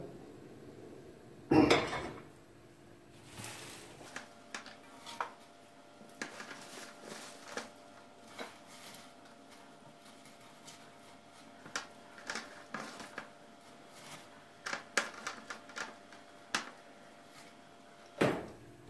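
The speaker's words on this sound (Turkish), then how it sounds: "Turp otumuzu bu şekilde doğruyoruz." Scattered knife taps against a cutting board while chopping radish greens, irregular and fairly close, with a louder clatter early on and sparse chops continuing throughout.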